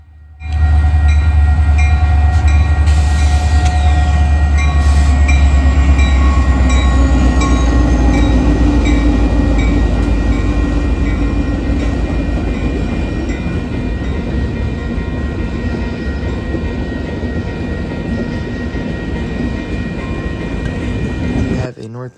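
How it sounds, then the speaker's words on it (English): A CSX freight train led by an SD70 Mac rebuild and a wide-cab Dash 8 locomotive rumbles past close by in the Chicago area, with loud continuous engine roar, wheel noise and a brief horn note early on. "led by two CSX units. The first one being a SD70 Mac rebuild, and the second being a CSX wide cab Dash 8."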